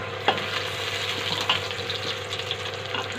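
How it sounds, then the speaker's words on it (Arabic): Onions frying deep in a pan until fully browned, as for sayadeya rice, give a steady close sizzle with a few sharp clinks from stirring. "هنا يا حبايبي بنحمر البصله بتاعتها زي بصل رز الصياديه، بنحمرها خالص."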